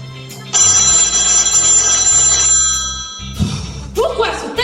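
A telephone bell rings steadily for about three seconds in a stage musical setting, with music and voices around it, then cuts off as speech and movement follow.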